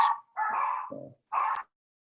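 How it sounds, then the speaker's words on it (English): A dog barks and yelps in three short, close bursts, the middle one lower and rougher, with brief silences between and no talking. "dogs are barking like crazy"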